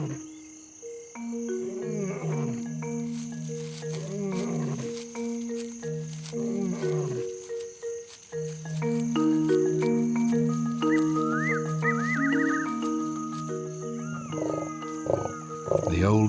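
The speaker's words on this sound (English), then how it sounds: "who also heard the male lion's roars" A male lion roars in the African wild, a series of deep, rhythmic grunting calls that swell and fade over long stretches, with insects and frogs chirring faintly beneath.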